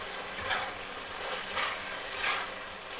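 Chilli potato with vinegar is stirred in a pan, heard as soft, steady sizzling with faint, recurring scraping swells from the stirring. No voices.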